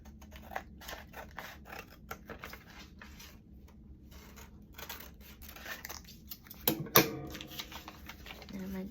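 Scissors cut through junk mail paper in a run of crisp snips and rustles, with a louder crunch of paper near the end while someone talks softly over it.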